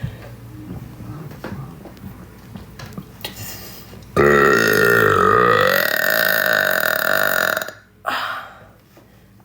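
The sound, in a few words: long burps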